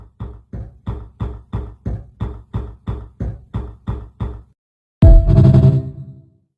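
A drum beat built from door-closing samples plays as a steady run of about a dozen evenly spaced, punchy hits. After a short pause comes one louder, boomy, reverberant crash that slowly decays.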